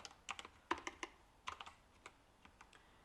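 Quiet keystrokes on a computer keyboard, tapped in short irregular bursts of a few clicks with brief pauses between them, heard alone without any talk.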